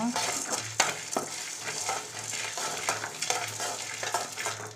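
Ivy gourd frying in oil in a kadai, a soft sizzle beneath irregular scrapes and knocks of a spoon stirring the pieces, close by with no voices.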